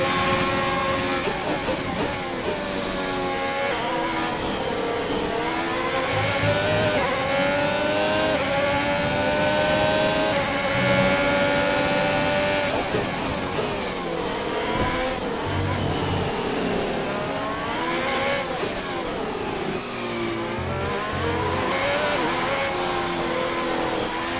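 Formula 1 race car engines roar continuously at high revs in the F1 2021 video game, with rising and falling pitch sweeps through gear changes across a loud, steady racing stretch.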